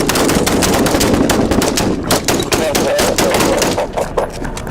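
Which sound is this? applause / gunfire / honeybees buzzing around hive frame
gunfire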